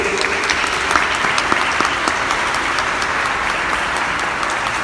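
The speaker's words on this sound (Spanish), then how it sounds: "el padre Rafael González Hernández, para quien pido un muy fuerte aplauso de bienvenida." Audience applause welcoming a priest before a conference talk, a steady dense clapping that fills the whole moment at even loudness with no voices over it.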